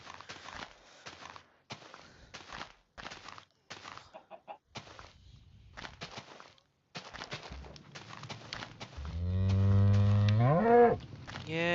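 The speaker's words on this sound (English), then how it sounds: "Yeah, we hear you, cow." Minecraft cow mooing in a video game, loud and close, a long drawn-out moo near the end after scattered in-game clicks and footsteps.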